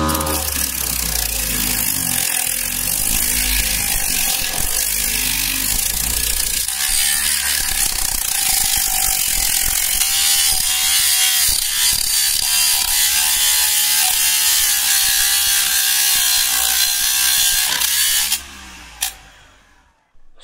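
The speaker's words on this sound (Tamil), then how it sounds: "சாண்டிங் டிஸ்க் எப்படி ஒர்க் ஆகுதுன்னு செக் பண்ணி பார்க்கலாம்." Homemade DC motor sanding disc, built as a small grinding machine, running continuously with a loud, close, buzzing mechanical rattle and a high whine, abruptly cut off near the end; no talk.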